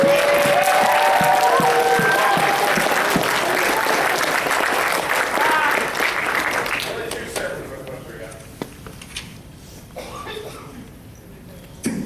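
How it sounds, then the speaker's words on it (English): Convention audience applause fills the first half, loud and sustained with crowd noise and voices mixed in, then thins out to scattered claps and quiet. "Let us give a round of applause for our boys."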